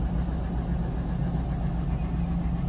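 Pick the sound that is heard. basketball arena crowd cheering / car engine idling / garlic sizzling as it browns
car engine idling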